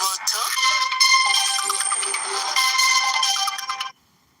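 Motorola phone ringtone sounding from an incoming call, a bright melodic tune playing close and loud for nearly four seconds before cutting off abruptly.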